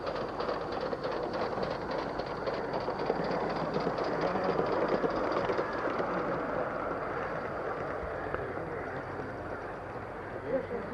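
A half-inch-to-the-foot scale model railway train on 32mm gauge track runs steadily, with a continuous rumbling, rattling wheel noise and faint rhythmic clicking that hold at an even level throughout.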